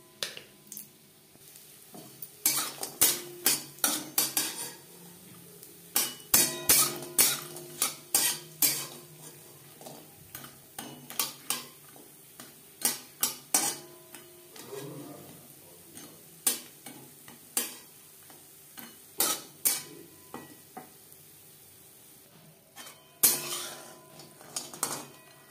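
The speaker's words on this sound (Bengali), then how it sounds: "বড়ি ভেজে নেব" Dal bori (lentil dumplings) fry in a pan, the soft sizzle broken by frequent sharp clinks and scrapes of a utensil stirring against the pan, fairly quiet and without speech.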